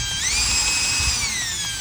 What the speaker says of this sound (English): All I'm doing is drilling. All I'm doing is making the hole a little bigger.